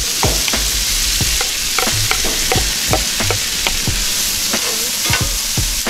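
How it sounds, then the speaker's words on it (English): Corn and beans roast in a hot cast iron pan with a steady, loud sizzle, punctuated by frequent sharp scrapes and clatters of stirring close by; no voices. "I'm gonna drop my corn and my beans in together. We wanna get that good and roasted."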